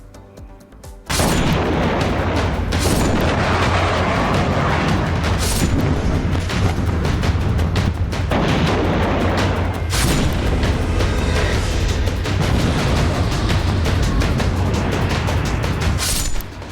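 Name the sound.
explosions from air strikes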